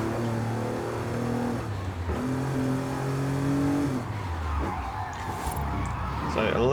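Engine of an Alfa Romeo Quadrifoglio heard from inside the cabin in an Italian exotic car pack of a racing video game, revving steadily through rising gear pulls with brief shift dips, close and continuous.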